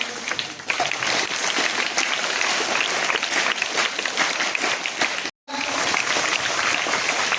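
Sustained applause from a crowd at a school Independence Day flag-hoisting celebration, steady loud clapping with a brief break near the end before resuming.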